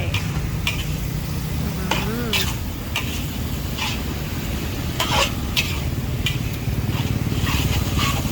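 Stir-fried basil with dried chilies cooks in a pan with continuous sizzling and repeated scraping and clanking of a spatula against metal, close up, with a voice talking over it.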